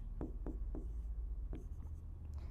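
Marker or chalk strokes on a board during a chemistry lesson on atomic structure, a few short scratchy taps in an uneven rhythm, close and clear over a steady low room hum, no talk.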